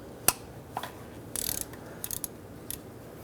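Socket ratchet working on the oil drain plug of a 2011-2019 Ford Explorer 3.5L, giving a sharp click, then short bursts of quick clicking, close and crisp with no talk.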